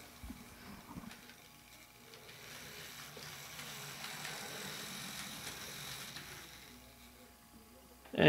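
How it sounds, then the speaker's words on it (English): A Bachmann B&O 4-4-0 model train engine runs forwards, giving a soft, steady mechanical whir and faint gear ratcheting that swells slightly mid-run, with a sharp knock at the end. "This is the engine going forwards."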